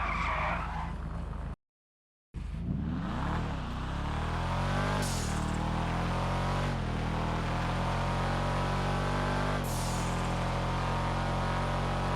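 Karin Sultan Classic engine in a driving video game, a loud, sustained engine roar with rising gear sweeps and tyre skids, broken by a brief cut of silence near the start, with no voices.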